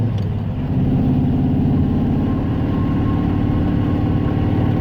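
A manual-transmission car engine idles steadily and close by, a low, even rumble with a fine rhythmic pulse that holds constant throughout, with no voices over it.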